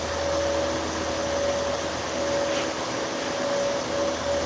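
A malfunctioning 3D printer running steadily up close, a continuous mechanical hum with a sustained tone and broadband fan-like whir, even throughout.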